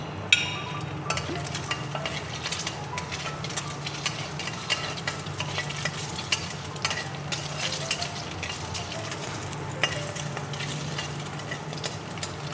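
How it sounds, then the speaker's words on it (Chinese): Century eggs sizzling in oil in a wok, with a steady low frying hiss punctuated by light clicks and scrapes of a spatula against the pan, heard close up without talk. "皮蛋我們每一面給它稍微過一下油"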